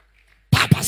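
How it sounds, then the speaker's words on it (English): Congregation breaking into hand clapping at a church service, a sudden loud burst of many hands after near silence, dense and continuous with a second swell. "Let's clap our hands for Jesus."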